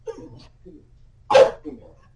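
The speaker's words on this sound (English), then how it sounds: "I haven't heard this much tail wagging and barking since Mike Larkin." A single sharp dog bark rings out close by, with a few soft whimpers and small vocal sounds before and after in an otherwise quiet room.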